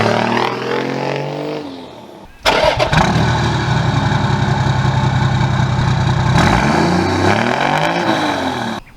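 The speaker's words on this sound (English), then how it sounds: "That's X-Force 3-inch stainless system all the way from turbo back. It gives it a nice note." A turbo-diesel 80 series Land Cruiser with an X-Force 3-inch stainless turbo-back exhaust cranks over, catches and settles into a loud, steady idle close by, then briefly revs before cutting off.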